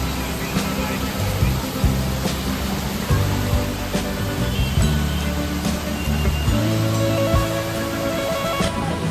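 A heavy downpour roars in a constant broadband wash, loud and near, while people talk underneath and a low rumble drifts through.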